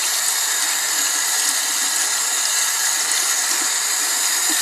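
Tap water running steadily while a makeup brush is rinsed under it, a continuous close hiss with no talk.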